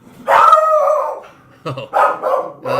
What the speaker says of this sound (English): Mailman's here if you hear my dog going crazy.